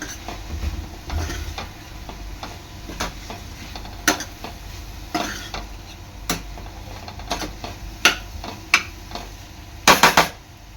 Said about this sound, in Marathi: ह्यामध्ये मी आपले मधोरे टाकणार आहे मिक्स करून घ्यायचं आहे